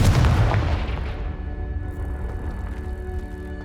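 A Confringo spell blast in the video game Hogwarts Legacy, a single loud, deep explosive boom at the start that rolls off into a long rumbling decay with faint crackling debris.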